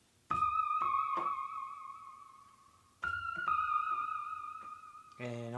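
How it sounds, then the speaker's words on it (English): The Jura synth's Ghostly Pluck preset sounds as two airy, wavering plucked notes that ring with a vibrato-like shimmer and decay slowly, followed by a brief brighter tone at the end, with no one talking. "the next sound I'm going to add in is coming from the Jura. It's called Ghostly Pluck"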